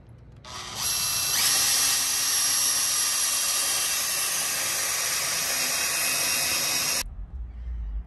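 A drill drives screws into a black aluminum baluster stair section, a loud close high-pitched motor whine that starts abruptly, holds steady for about six seconds, then cuts off into quiet handling noise.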